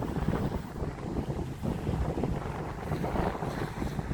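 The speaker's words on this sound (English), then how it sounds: "A little bit windy" Wind buffets the microphone on an outdoor walk through Plymouth, a steady low rumble with gusts rising and falling throughout, no voices.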